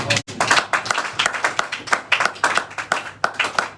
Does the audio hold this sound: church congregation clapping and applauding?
yes